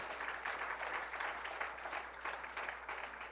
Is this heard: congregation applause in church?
yes